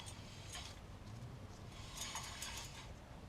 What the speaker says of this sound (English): So that's the noise of the bearing.